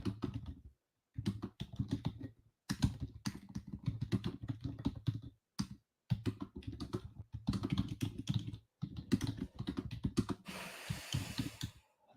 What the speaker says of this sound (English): I'm just typing in our chat.